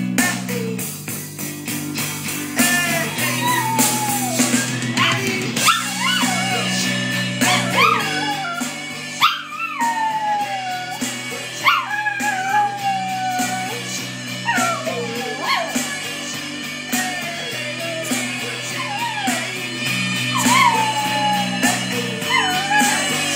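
A poodle howls and yips in wavering, rising cries along to a song playing in the background, the music dropping out at moments while the dog keeps singing over a steady backing.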